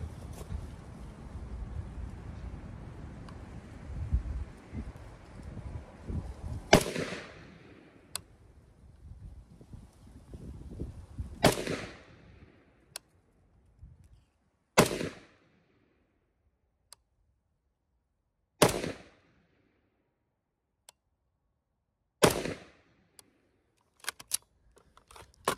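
A SIG Spear LT short-barreled rifle fires about five sharp, loud shots spaced several seconds apart outdoors, each with a quick ringing decay. Wind noise comes first, and faint clicks fall between the shots.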